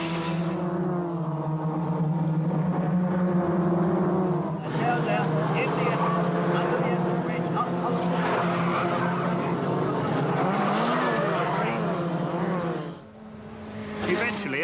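Formula First single-seater race cars dicing for the lead through a 10-lap race, engines droning steadily and loud with pitch sweeps through gear changes, a brief dip near the end, with voices talking over the engine noise.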